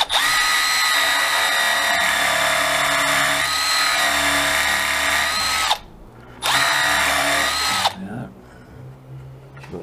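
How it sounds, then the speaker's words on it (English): A power drill, an SDS type, countersinking into wood close to a knot, whining loudly and steadily for several seconds, cutting out briefly, then running again in a short burst before stopping; no talking. "Okay then, back to countersinking again."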